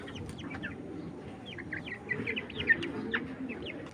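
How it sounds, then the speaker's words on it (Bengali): Hybrid Cochin chickens, two roosters and two hens, cluck and call in short, rising bursts that grow busier and louder toward the end, over a low background murmur, with no one talking. "এখানে 2টা মোরগ আছে, 2টা মুরগি আছে।"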